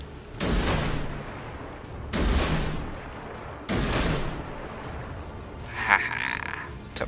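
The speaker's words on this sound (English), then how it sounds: "Want to eat my torpedo tubings? Let's fire some." Torpedo launches in the naval video game World of Warships, three heavy whooshing bursts spaced about a second and a half apart, followed by a fainter mechanical sound, with no talking.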